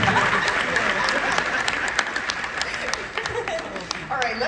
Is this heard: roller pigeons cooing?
no